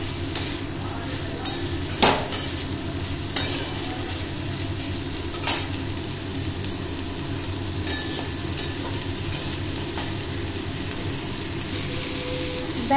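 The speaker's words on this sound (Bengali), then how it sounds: "লো ফ্লেমে প্রায় এটা 2 মিনিট মতো একটু ভেজে নেব" Ingredients for chicken stew fry over a low flame with a steady sizzle and occasional sharp clinks of a spoon against the pan.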